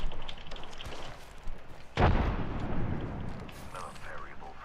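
A frag grenade explosion in Apex Legends lands as one sudden, heavy blast that booms then fades into a rumbling tail, preceded by quieter game sounds and followed by faint voices and effects.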